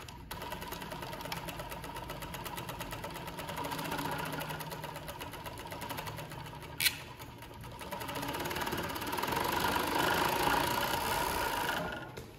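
A Juki MO-6916J 5-thread industrial serger, running without oil, whirs in a rapid, steady mechanical chatter that holds for the whole stretch, briefly dipping before speeding up slightly louder, with one sharp click midway and no talk.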